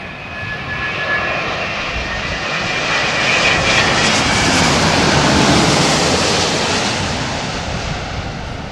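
A Boeing 787-10 airliner landing in gusty crosswinds of about 34 mph, a loud, broad, continuous jet engine roar that swells and holds close by with wind noise mixed in.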